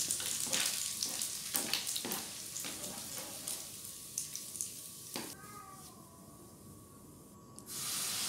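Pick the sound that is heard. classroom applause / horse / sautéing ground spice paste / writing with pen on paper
sautéing ground spice paste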